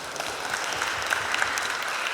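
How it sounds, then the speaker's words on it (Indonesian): A student audience at a campus talk with a regency candidate gives a short round of applause, a soft, even crackle of many hands heard from a distance and fairly faint. "Tepuk tangan semuanya."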